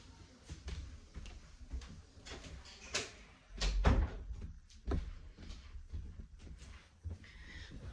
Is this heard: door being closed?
yes